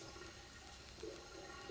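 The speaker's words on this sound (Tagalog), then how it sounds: "Parang bukas yung gripo na may nagsasali ng tubig." Water rushes steadily like an open tap, a continuous hiss heard faintly at a distance near a swimming pool in the mountains, with no talking.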